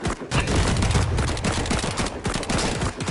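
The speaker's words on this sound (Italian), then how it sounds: "Ho sparato un cannone!" Dense, rapid bursts of game cannon and gunfire rattle continuously in a chaotic video game firefight, loud and close with overlapping booms and no clear gaps.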